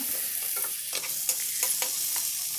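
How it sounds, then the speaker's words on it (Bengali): Chopped onions fry in hot oil for a Bengali tilapia kalia, with a steady close sizzle and several light scrapes of a spatula stirring through the pan. "পেঁয়াজগুলো গরম তেলের মধ্যে ছেড়ে দিলাম ভালো করে খুন্তি দিয়ে নাড়িয়ে নিলাম"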